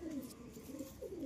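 A male pigeon of a betting breed coos in low, throaty rolls, a steady close-up burble that swells and falls a few times over a faint airy background.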